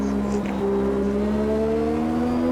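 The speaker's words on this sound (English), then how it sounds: "Revving it out, break that foot, get on third gear actually." A 1989 Formula One car engine in the Automobilista 2 racing game, on the Jacarepagua circuit, holds a loud, steady high-pitched whine whose tone climbs slowly as it revs, with no talk.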